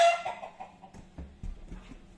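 Backyard chickens in Finland clucking softly while being fed oats, a few low, close cluck notes scattered over about two seconds with light rustling underneath.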